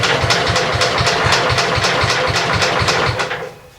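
A small engine is started and run up close. It gives a loud, steady chugging with a quick, regular pulse of firing beats, then winds down and fades at the very end.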